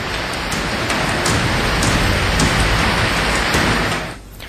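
Heavy rain pours in a steady, dense hiss with a low rumble beneath it. It stays loud and constant, then eases slightly near the end.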